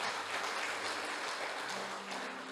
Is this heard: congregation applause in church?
yes